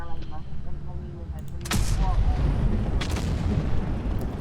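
Tank cannon shots in World of Tanks Blitz, a Tiger I firing: a sharp loud blast near the middle, a second booming shot later, over a rumbling battlefield background with game effects.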